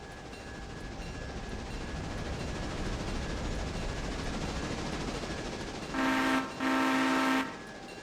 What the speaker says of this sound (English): we need to wait for the passenger train